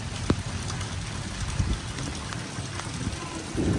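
Heavy rain pours steadily onto surfaces outdoors, a dense, continuous hiss with scattered sharper drops and splashes, with faint voices in the background.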